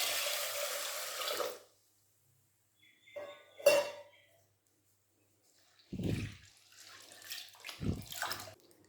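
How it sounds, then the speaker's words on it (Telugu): Water runs and sloshes as chana dal is washed in a pressure cooker, with a short burst of flowing water, a pause, then clinks of the vessel and swishing rinses in separate bursts. "వాటర్ వేసుకొని 2-3 సార్లు బాగా కడుక్కోవాలి."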